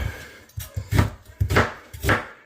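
A knife rough-chops roasted tomatoes on a board in six or seven quick, uneven thunks, close and fairly loud, each a short wet knock with a brief pause between, no talking.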